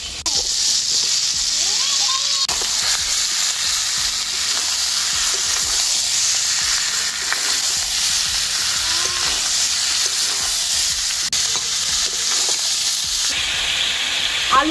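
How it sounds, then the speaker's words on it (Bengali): Fried jackfruit and potato sauté with spices in a pan, a steady hissing sizzle broken by the scrape and clink of a stirring spoon. "আলু আর এঁচড় খুব ভালো করে কষিয়ে নিয়েছি 5 মিনিট।"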